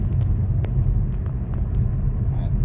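A Dodge Challenger fitted with RIPP coil packs coasts along, its engine giving a steady, loud low rumble with a few faint ticks on top, heard from inside the car.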